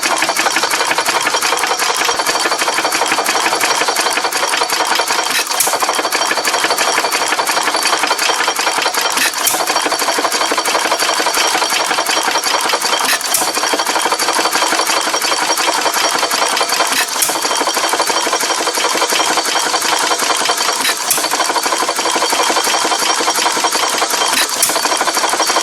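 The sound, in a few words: 1918 Fairbanks Morse Z 1.5 hp hit-and-miss engine running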